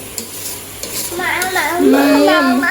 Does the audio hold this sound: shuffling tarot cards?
no